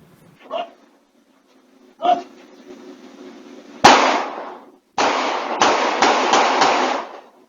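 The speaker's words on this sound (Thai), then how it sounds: "จ่อยิงแบบรัวๆเลยอฮะ" Rapid gunshots from a shooting caught on CCTV in Nonthaburi, Thailand: one sharp crack, then a burst of several quick shots close together, after two short dog-like barks earlier.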